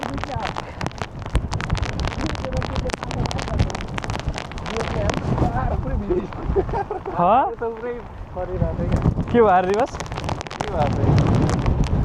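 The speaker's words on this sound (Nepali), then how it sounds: "कस्तो लास्ट हावा लाग्यो यो साउन्ड चाहिँ कस्तो आइरहेको छ" Strong storm wind buffets a coastal clifftop trek at the Seven Sisters in the UK, roaring loud and continuous with gusty rumbling, while people talk over it throughout.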